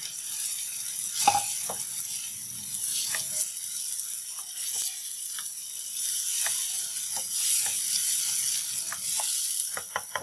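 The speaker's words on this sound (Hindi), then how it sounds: "अब हम इसमें अपना लहसुन डालेंगे और हल्का सा लहसुन को फ्राई करेंगे और साथ ही इसमें टमाटर को शामिल करेंगे" Garlic and tomatoes frying with onions in a pan give a steady close sizzle, with scattered pops and spatula scrapes as the food is stirred.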